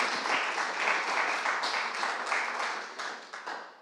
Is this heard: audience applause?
yes